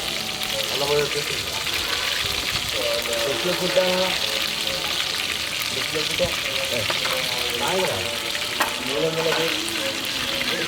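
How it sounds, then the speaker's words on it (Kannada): Garlic paste sizzles and fries in a hot pan, a steady crackling hiss with occasional stirring scrapes, while someone talks over it. "ಈಗ ಅಲ್ಲ ಬೆಳ್ಳುಳ್ಳಿ ಪೇಸ್ಟ್ ಹಾಕ್ತೀನಿ."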